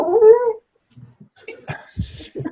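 A dog gives a short, close howling whine, then after a pause a run of soft whimpers and yips mixed with room noise on a meeting call.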